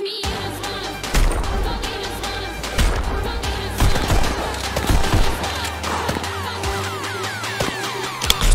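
Sharp pistol gunshots crack in quick succession in the rhythm shooter Pistol Whip, loud and close, fired over a driving music track.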